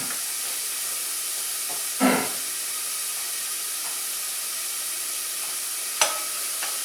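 Onion softening in a hot pan gives a steady, even sizzle throughout, broken by two brief utensil clanks against the pan a few seconds apart.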